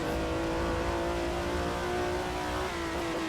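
A Chevrolet race car engine in a 1967 Daytona Continental 24-hour race game drones steadily at high revs, with a sustained tonal note that rises slightly and holds loud and close throughout.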